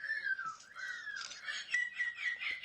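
Shrill, wavering seagull-style cries from a person imitating a gull, a few seconds of continuous squawking with rising and falling pitch, fairly close and alone.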